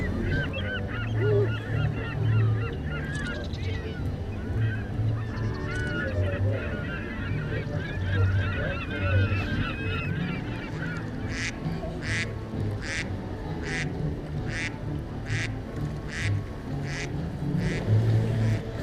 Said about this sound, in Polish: czyli mnóstwo jakichś kaczek, łabędzi